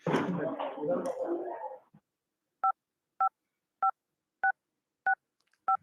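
Telephone keypad dialing tones during a scam-baiting phone call: after a stretch of talk, six evenly spaced beeps sound alone on a quiet line, each crisp and short.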